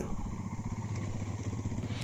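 Fellow riders' motorcycles on a bike ride from Rishikesh to Lansdowne pass by with a steady, throbbing engine rumble at moderate loudness.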